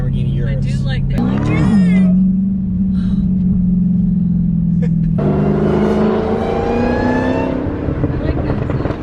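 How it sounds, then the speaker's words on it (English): An 800 hp Dodge Hellcat engine rumbles loudly at close range, then its supercharger whine rises in pitch as the car accelerates, with occasional voices over the engine. "I like that sound. It's squealing. Yeah. Well, it's not like squealing. It's called a whine."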